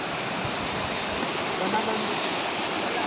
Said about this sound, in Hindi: ये सुनसान नदी